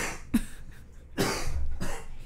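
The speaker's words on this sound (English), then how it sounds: "That cough didn't sound too bad." A few sharp coughs, close by, spaced out with short pauses between them and no speech.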